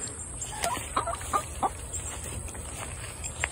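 Several short chicken clucks scattered over the first half, close by, over a steady background hum.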